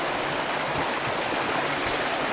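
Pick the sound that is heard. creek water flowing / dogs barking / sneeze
creek water flowing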